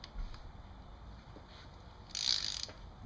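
A torque wrench tightens the clutch basket bolts on a Kawasaki Ninja 1000 to 9 newton meters. Faint mechanical ticking leads to one sharp, bright click near the end as the wrench reaches its setting.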